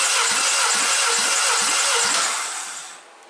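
A 2-litre Honda K20A6 engine from a 2004 Honda Accord cranking on the starter during a compression test, a loud even whirring with about five regular pulses before it winds down and stops.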